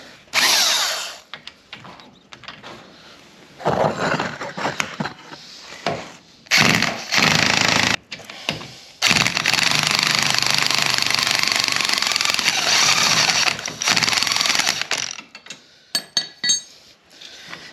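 A worn, shaky impact wrench hammers in long loud bursts while removing a wheel bearing from a Polaris General 1000, stopping and restarting several times, with brief metallic clinks between runs and no talking.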